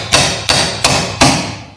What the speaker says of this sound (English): with the brass pin punch and little brass hammer,